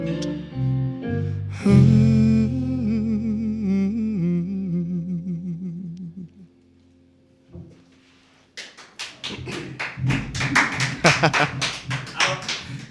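A small studio audience at a live radio performance on KOOP 91.7FM claps after a song ends, a short, uneven, close-miked burst of applause following sustained guitar and voice.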